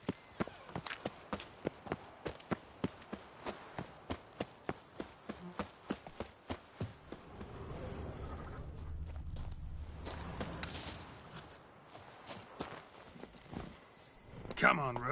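Hooves of Roach, Geralt's horse in The Witcher 3, a steady walking clip-clop of evenly spaced sharp hoof strikes that fade into a softer rumble of movement midway before a few more thuds.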